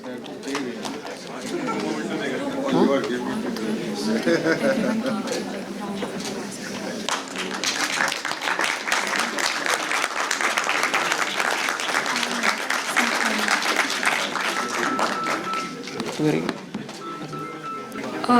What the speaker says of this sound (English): Everyone, please keep the claps going.